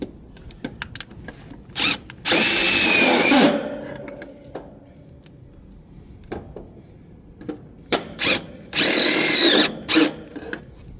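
A power drill boring new screw holes, two loud whirring bursts of a couple of seconds each separated by quiet clicks and handling noise, close by with no talking.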